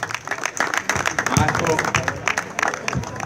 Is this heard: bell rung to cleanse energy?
no